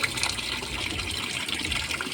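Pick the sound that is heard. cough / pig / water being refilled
water being refilled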